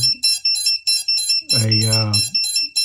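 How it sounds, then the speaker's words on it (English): Repeated short high-pitched electronic beeps from a quadcopter drone's flight controller buzzer pulse in a steady rhythm, briefly joined midway by a low droning hum. "tone from the buzzer, and the LED is red"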